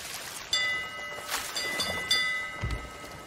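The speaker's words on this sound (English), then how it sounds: "it's raining. It's storming." A rainstorm in the pirate game Sea of Thieves: a steady hiss of rain, sharp cracks of thunder and a low rumble near the end, with faint tonal game sounds ringing behind, no speech.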